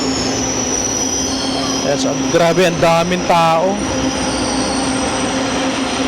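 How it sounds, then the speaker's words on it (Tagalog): A train arrives at a crowded station, a loud rumble with squealing wheels rising briefly mid-way as it pulls in, while a person talks over it. "And ngayon parating na yung ating sasakyan na tren. Ayan na yung tren"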